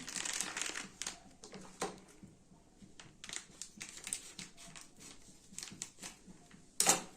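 A plastic bag of ready-mix liquid soap powder is opened and handled close up, giving irregular crinkling and rustling bursts over several seconds, with a sharper crackle near the end.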